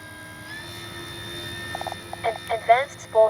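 A Flex RV-8 60E G2 electric RC plane flies into the wind, its motor a steady, thin whine that rises briefly at the start and holds level, with someone talking over it in the second half.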